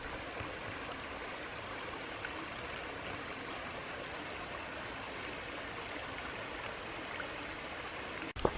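Little Turnbull Creek flowing through Bowie Nature Park in Tennessee, a steady, even rush of trickling water heard close and moderately quiet, with a brief knock near the end and no talking.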